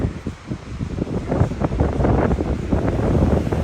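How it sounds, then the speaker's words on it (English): Strong wind buffets the microphone in loud, gusty roars on a rocky mountain trail in the Mount Jefferson Wilderness, Central Oregon, building and staying heavy throughout, with no voices. "this is windy"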